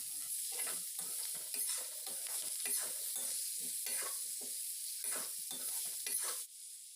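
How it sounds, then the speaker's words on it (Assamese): Pointed gourd and potato pieces sizzle in a hot pan while a spoon stirs them, with scraping strokes coming in an irregular rhythm over a constant close frying hiss and no talk. "ইয়াত এতিয়া আমি ভাজি থোৱা পটল আৰু আলুখিনি দি ভালদৰে মিহলাই দিম"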